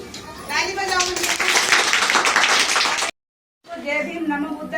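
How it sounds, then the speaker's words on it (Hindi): An audience claps along at a Babasaheb Ambedkar birth anniversary celebration, a dense rhythmic patter under a singing voice, cutting off briefly before the voice returns. "ताली बजाओ मुझे।"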